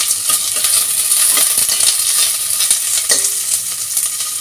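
Onions with mustard seeds, curry leaves and green chillies fry in a hot pan, giving a steady close sizzle while a spoon stirs and scrapes against the metal in quick irregular strokes.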